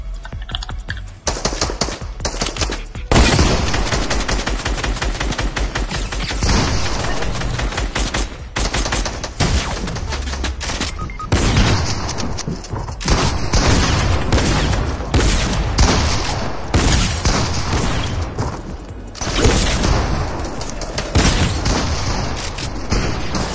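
Relentless video game gunfire, rapid automatic bursts and sharp shots crackling almost nonstop, loud and close, broken only by brief gaps.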